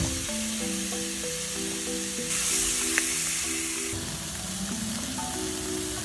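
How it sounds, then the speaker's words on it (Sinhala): Chicken frying in oil over high heat, a steady close sizzle and hiss running throughout with a brief louder spatter midway, alongside soft tonal background music and no talking. "ඉතින් මම තව තෙල් පොඩ්ඩක් දාලා මේක හොඳට චුට්ටක් වැඩි ගින්දරේ බැද ගන්නවා"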